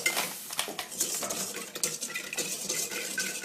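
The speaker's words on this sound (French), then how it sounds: "on va monter une petite chantilly" Cream and sugar are whisked into chantilly in a bowl, a quick irregular clatter of whisk against the sides, close and fairly soft, with no talking.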